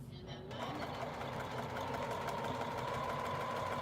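A sewing machine stitches a pillow seam with a steady, fast mechanical whir and needle chatter, running continuously and fairly quietly after a brief pause at the start.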